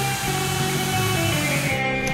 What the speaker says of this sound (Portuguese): A seguir fazes um furo com largura suficiente para que a borracha do chinelo entre